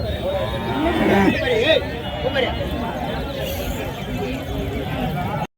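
Cattle at the Matrapalli livestock market give occasional low moos beneath a steady hubbub of crowd chatter and nearby voices, the whole scene busy and continuous.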